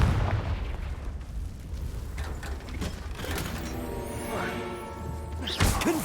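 A Confringo fire spell blasts in Hogwarts Legacy, with crashing, booming impacts and rumbling debris over game ambience, followed by a short ringing tail and a louder burst near the end.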